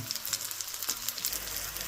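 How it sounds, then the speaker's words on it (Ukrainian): Bread and apple patties crackle and sizzle steadily in a frying pan at moderate volume, with faint scraping now and then. "Таким чином смажимо хлібні котлети із яблучком"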